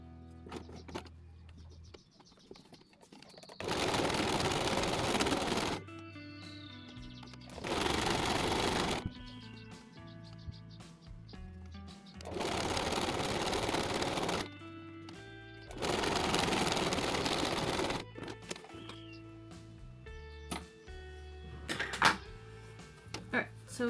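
A sewing machine stitches down the folded edge of a beginner's apron in three long steady bursts, each a few seconds, with quieter pauses between while fabric is repositioned and a voice talks in the gaps.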